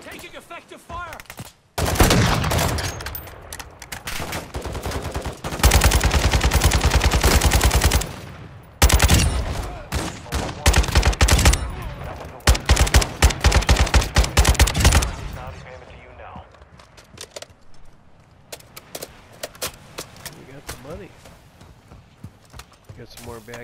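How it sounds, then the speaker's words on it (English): Gunfire in the shooter game Call of Duty MW2 DMZ crackles in loud rapid bursts and fusillades, close and dense at first and then thinning to scattered shots, with someone talking over it. "Taking effective fire."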